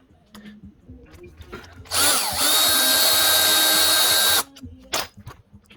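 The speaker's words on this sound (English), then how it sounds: "we're going to have to open it up with a drill bit" Power drill boring out a brake pad pin hole on a 2007 Harley-Davidson Heritage Softail Classic, one loud sustained whining burst of about two and a half seconds, close up, with small metallic clicks before and after.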